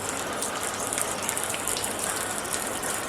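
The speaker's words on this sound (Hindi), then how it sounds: "ये आंगन में देखिए हमारे पानी किस तरह से बरस रहा है" Heavy monsoon rain pours into an open courtyard in a mountain village, a dense, steady hiss and patter of water close by with no voices.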